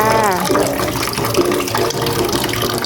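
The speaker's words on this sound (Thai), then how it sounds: "ผักต้องล้างทำความสะอาดก่อนนะคะ ล้างสักสองสามน้ำนะคะ" Water spinach greens are washed in water, producing a continuous close sloshing and splashing. A voice is briefly heard at the start.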